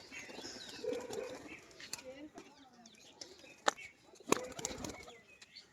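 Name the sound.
male and female pigeons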